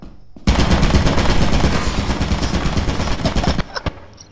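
An automatic turret in Lethal Company fires a fast, loud, continuous burst for about three seconds, then breaks off into a few scattered final shots.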